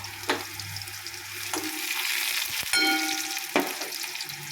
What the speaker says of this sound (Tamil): முதல்ல பூண்டு கொஞ்சம் வதங்கிட்டோம்